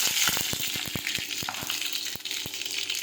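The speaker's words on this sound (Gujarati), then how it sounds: "હવે તેમાં આપણે રાઈ અને જીરું નાખી દઈશું." Mustard seeds and cumin sputter in hot oil with a steady sizzle and a run of sharp popping crackles, close up and alone.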